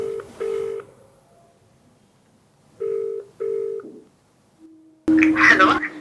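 A phone dials a call with a few short beeping tones, then pauses before a brief ringback tone sounds. A voice speaks right at the end.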